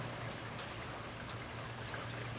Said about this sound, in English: it's put a little trickle in the creek